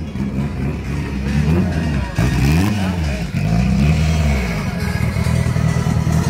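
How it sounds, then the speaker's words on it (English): Revving engine of a turbocharged modified car at a cars-and-coffee meet, loud repeated throttle blips rising and falling in pitch, with crowd chatter around it. "I hear more turbo than car."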